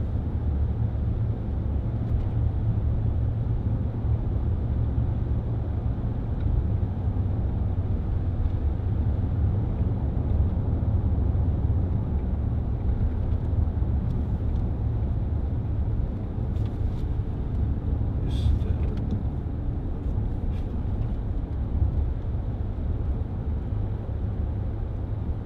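2010 Range Rover Sport 3.6 TD V8 HSE diesel cruising on a bumpy road, heard from inside as a continuous low drone of engine and tyre rumble, steady and unbroken with a brief faint rattle partway through.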